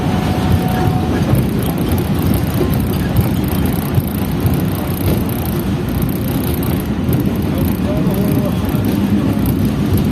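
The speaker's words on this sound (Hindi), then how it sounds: "हमारी ट्रेन पहुंच रही है खानेवाल जंक्शन रेलवे स्टेशन पर" The Shah Hussain Express passenger train runs along the line toward Khanewal Junction, a loud, steady rumble of wheels and carriage noise heard from inside the coach, continuous throughout.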